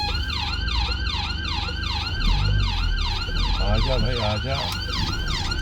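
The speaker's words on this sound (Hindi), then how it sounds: "मेरे ख्याल है एक एम्बुलेंस आ रही है" An ambulance siren wails in a steady rising-and-falling pattern, loud and close, over a continuous traffic rumble; someone speaks briefly partway through.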